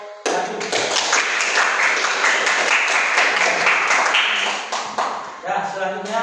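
A classroom group claps together after a presentation, with brisk applause running steadily for several seconds before tapering off, and a voice speaking briefly at the end.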